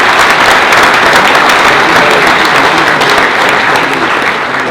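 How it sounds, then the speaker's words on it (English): Loud, dense audience applause fills the whole stretch without a break, many hands clapping together at a civic State of the City address in St. Catharines. "And Mark, I want to give you a round of applause and say thank you."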